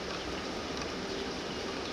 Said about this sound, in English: Rain seems like it might be slowing down.